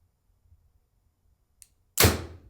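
A single sharp twang and thwack of a bow releasing an arrow, loud and close, after a brief near-silent pause with one faint tick.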